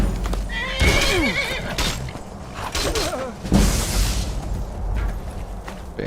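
A horse whinnies loudly a couple of times in the video game Skyrim, over clip-clopping hooves and rumbling game sounds, with no talking.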